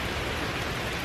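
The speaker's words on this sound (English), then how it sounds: "Four hours later, and it's still raining" Rain falls as a dense, even hiss of noise across a brief second, close and constant, with no voices.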